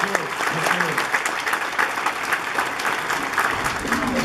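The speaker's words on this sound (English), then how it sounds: "Clap for yourself." A group claps enthusiastically, a dense patter of hands with a few voices mixed in, sustained for several seconds.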